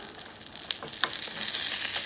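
Sharp crackling sizzle of tempering spices hitting hot oil for beetroot chutney, a steady bright hiss with a few louder pops, close up and without talk.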